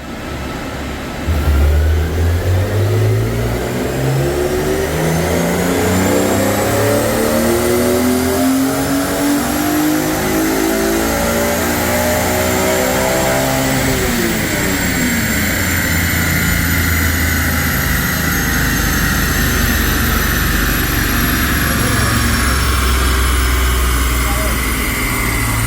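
A stock BMW Z4 M Coupe engine revs hard on a dyno and climbs steadily in pitch for several seconds, then drops back and settles into a loud, steady drone. The roar is close and continuous.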